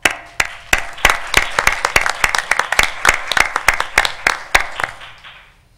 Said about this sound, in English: we'd like to give y'all a big round of applause